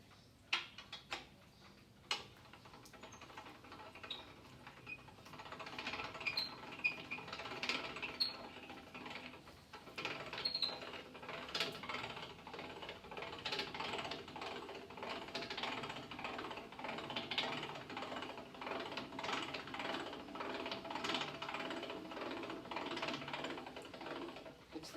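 A 70 kg super single spare wheel is wound down on its carrier under a Mitsubishi Canter 4x4, giving a steady run of light ratcheting clicks and mechanical ticking that lasts about 25 seconds, close and moderately loud.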